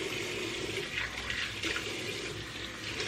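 Running water pours steadily while hair is gently rinsed, a soft continuous splashing and trickling that stays at an even level throughout.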